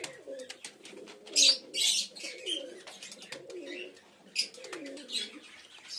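Pigeons of the Kaldoma breed cooing in a loft, soft repeated throaty coos rolling one after another at close range, with occasional sharper chirps and a faint flutter between them.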